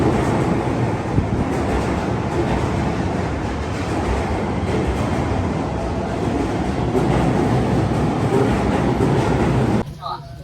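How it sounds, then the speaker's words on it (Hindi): A Tokyo metro train arriving at a station rumbles loudly and continuously with rolling, rushing noise throughout, close by, then drops off abruptly at the end. "तो जी ये हमारी ट्रेन आ भी है"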